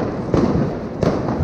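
Heavy compound fireworks blocks going off at close range: a loud, dense crackling barrage with two sharper booming bursts standing out, continuous throughout.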